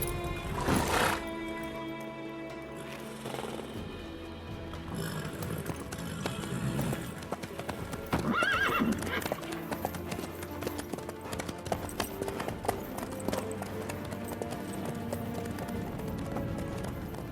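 Horse hooves clip-clopping steadily in the Witcher 3 video game, a continuous rhythmic trot over game music and ambience, with brief whinny-like sounds and a speaking voice at moments.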